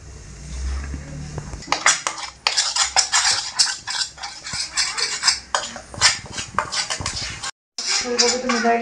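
Cauliflower florets tossed with black pepper powder and spices in a bowl, a steady run of clinking, scraping utensil-on-bowl sounds close up, with a brief pause near the end.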